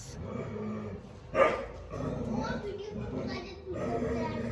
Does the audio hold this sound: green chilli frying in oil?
no